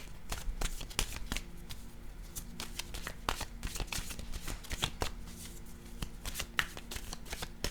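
Tarot cards are shuffled close up in a quiet room, a rapid series of soft riffling flicks and taps with short pauses between bursts, no voices over them.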